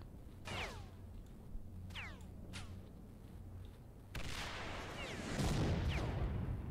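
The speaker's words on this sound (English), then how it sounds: "Where are they shooting from?" Gunfire in the game S.T.A.L.K.E.R.: Shadow of Chernobyl: several sharp shots with whip-like ricochets crack out across a steady low ambient drone, followed by a denser, louder burst of firing near the end.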